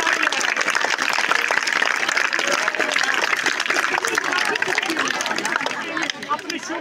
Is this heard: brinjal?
no